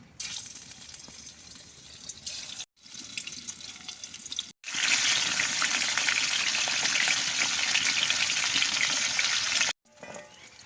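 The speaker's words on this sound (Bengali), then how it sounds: "তেল গরম হয়ে গেছে মাছগুলোকে তেলের মধ্যে ছেড়ে দিচ্ছি" Fish pieces fry in hot oil with a loud, dense, rushing sizzle that swells suddenly after a brief pause and holds steady for several seconds. Softer frying comes before it, and the sound cuts out near the end.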